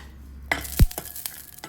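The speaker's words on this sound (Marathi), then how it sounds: "थोडा लसूण पण भाजून घेते" Ten to twelve garlic cloves roasting in a kadhai, with a few sharp clinks and scrapes of a spoon over a faint sizzle and no talk.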